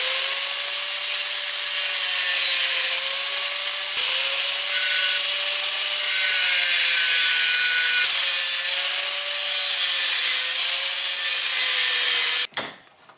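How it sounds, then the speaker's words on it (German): A handheld angle grinder cuts into a motorcycle taillight part for a Daelim VT rear conversion, its high steady whine droning loud and close for several seconds before stopping abruptly with a brief clatter at the end. "Mit der Flex versuche ich das jetzt gleich."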